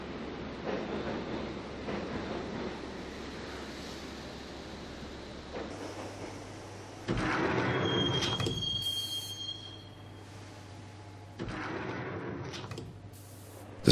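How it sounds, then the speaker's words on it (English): Subway train ride in the Max Payne video game: a steady rumbling rail roar with a low hum, swelling louder midway with screeching wheel squeals and a high metallic tone, then easing back before another rise. "the train doors had already shut behind me, and I was in for the ride"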